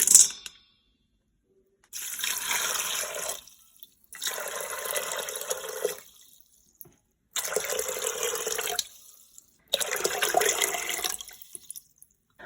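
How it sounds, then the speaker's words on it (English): Water is poured into an Instant Pot holding dry chickpeas in four separate splashing pours of about a second and a half each, with short silent pauses between them and a brief clink at the start. "I've added 8 cups of water to my Instant Pot here"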